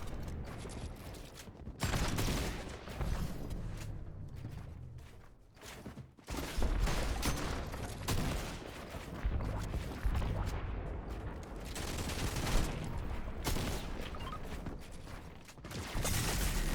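Heavy video game gunfire roars in dense, rapid bursts with mechanical clatter, loud and nearly continuous, dipping briefly around the middle before resuming at full intensity.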